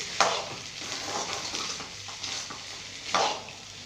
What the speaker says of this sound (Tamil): ரொம்ப வேக விடாமல் லேசாக கிண்டி விட்டா போதும்